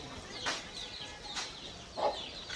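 Free-range country hens in a village farmyard cluck in a few separate short calls, spaced out and moderately faint, with no voices over them.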